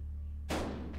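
A single shotgun blast at the dealer in Buckshot Roulette booms out halfway through after near silence, a short, heavy burst that fades quickly, fairly quiet overall.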